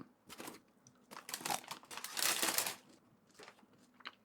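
A plastic packet crinkles and rustles in several bursts up close, loudest in the middle, with no talking.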